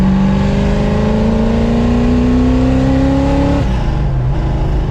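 A 1966 Mustang GT350 engine revs hard while driving, a loud rising engine note climbing steadily for several seconds before dropping off abruptly near the end, with a lower rumble carrying on.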